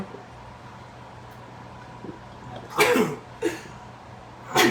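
A few sudden sneezes burst out close by in a quiet room, three sharp bursts spaced a second or so apart over a faint hum.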